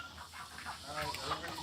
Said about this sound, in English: There goes the chickens.